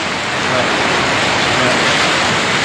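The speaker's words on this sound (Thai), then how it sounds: "เสียงน้ำดังน่ากลัว" Flash flood water surges after very heavy rain, sweeping branches and trees along and flooding over a bridge, a loud, dense, continuous roar of rushing water close by, steady throughout.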